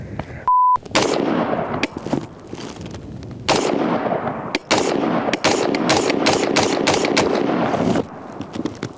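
A Bear Creek 7.62x39 AR-15 upper fires a string of loud, sharp rifle shots outdoors at a close distance. The shots come singly and in quick clusters, and each crack is followed by a short echo.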